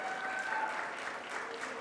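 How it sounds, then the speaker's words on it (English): An audience at a Nowruz celebration in a city hall gives a big round of applause, dense and continuous across the whole moment, with a faint whistle or voice rising above the crowd. "Let's give a big round of applause."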